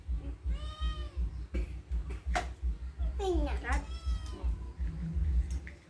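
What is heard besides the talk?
cat meowing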